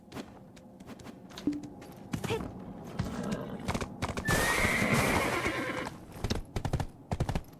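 Horse in the video game Black Desert Online gives a loud neigh over steady clip-clop hoofbeats, with brief speech nearby and game sounds around it.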